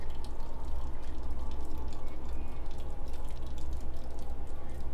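Water trickles and gurgles steadily at low volume, with small drip-like splashes in a continuous stream and no voices.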